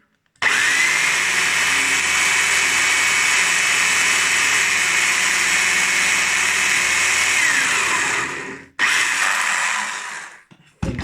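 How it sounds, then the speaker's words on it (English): A power drill whines loudly and continuously for several seconds while drilling a hole in a knife handle, stops briefly, then runs again in a shorter burst before cutting off. "Okay, that's the hole drilled."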